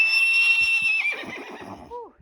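A nervous mare whinnies in a large barn full of horses during show prep, the high neigh carrying over the first half amid hoof clops and shuffling, with a brief voice toward the end.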